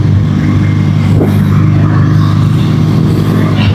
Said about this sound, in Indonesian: Knalpotnya mengerikan gitu